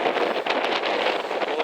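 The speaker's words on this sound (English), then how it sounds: "Yes, the wind did pick up." Wind buffets the microphone outdoors in a continuous loud, rushing roar with small gusty swells and no other sounds standing out.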